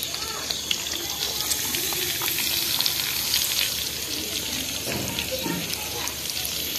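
Red chilies and salt fry in a pan in a village kitchen with a continuous hiss and crackle, and a few stirring scrapes come through.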